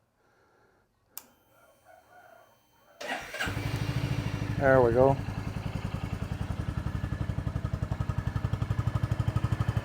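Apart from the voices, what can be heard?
motorcycle engine starting and running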